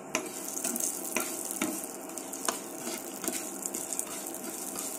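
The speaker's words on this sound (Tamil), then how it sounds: "இதுல நான் வந்து கொஞ்சம் கடுகு உளுத்தம் பருப்பை" Mustard seeds and urad dal crackle and sizzle in hot oil for tempering, a steady frying hiss broken by scattered sharp pops from the seeds, close up with no talking.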